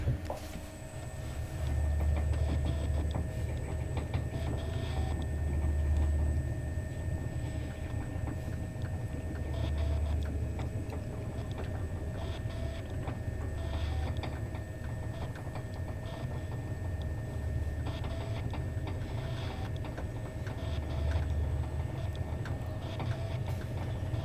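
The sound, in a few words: old Kone traction elevator running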